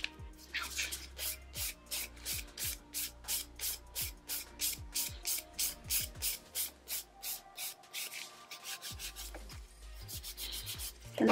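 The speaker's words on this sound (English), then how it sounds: "I'm going to use the same kind of file, the 240. And just smooth out the scratches" Fingernails filed with a 240 grit nail file, a close series of quick rhythmic rasping strokes with brief pauses between runs.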